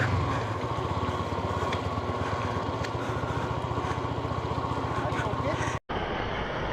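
A motorbike runs on a road near Dainthlen Falls in Cherrapunji, Meghalaya: a steady, close engine drone with wind rumble that continues throughout, interrupted by a brief dropout near the end.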